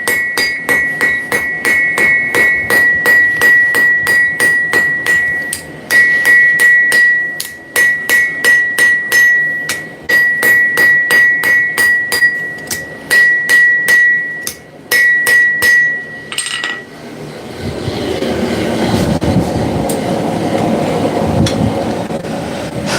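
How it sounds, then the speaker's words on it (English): A blacksmith hammers hot metal in a workshop, ringing strikes in fast, steady bursts with brief pauses, loud and close, then a roaring hiss like the forge fire takes over. "you can see that I'm not doing huge hammer swings"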